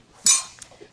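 A cooking pan picked up in a kitchen, giving one short bright metallic clink followed by a fainter tap and light rattles, close and alone.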